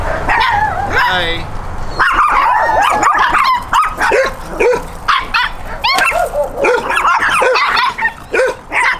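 Eight stray dogs and puppies under a broken trailer in San Antonio, Texas, bark and yip repeatedly at close range, with whimpers mixed in, overlapping with people talking throughout.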